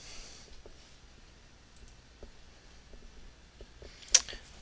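A computer mouse gives a few faint, sparse clicks against a quiet background, with one sharper click near the end.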